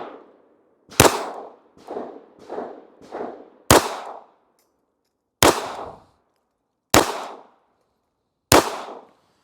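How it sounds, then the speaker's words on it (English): Ruger Security 380 pistol firing 99 grain Federal Hydra Shok Deep rounds at 5 yards, eight sharp reports, the first five close together and the last three spaced out, each with a short decaying echo. "let's do a little bit of accuracy and a little bit of shooting"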